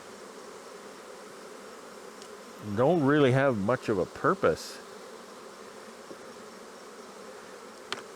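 Honey bees buzz at a nuc hive, a low droning hum, with someone speaking briefly over it partway through.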